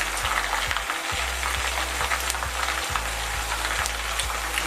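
Meat, part of a snail cromesquis dish, sizzles and crackles steadily as it fries in butter in a pan, loud and close with a dense spitting hiss and no talking.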